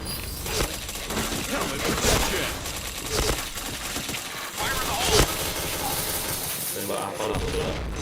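Gunfire in the video game Point Blank: repeated bursts of rapid shots and fusillades crackling through the mix, some close and sharp, others scattered, with a busy, dense game soundscape throughout.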